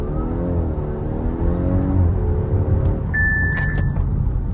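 An Audi A5 with no tune pulls hard at night, its engine rumble rising and falling steadily up close for several seconds, with a thin whine coming in near the end.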